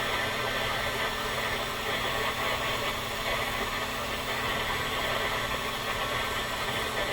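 A hot air blower used to pop popcorn drones steadily and evenly throughout, a constant broadband whoosh with a low motor hum and no pauses.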